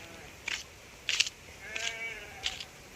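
Sheep bleat four times in a row, spaced about half a second apart, each call short and fairly close against a quiet outdoor background with no talking.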